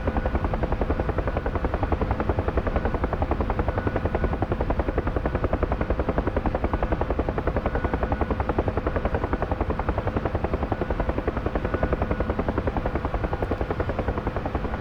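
A UH-1 Huey helicopter hovers in a flight simulator game, its rapid rotor chop loud, close and perfectly even for about fifteen seconds, with no talking.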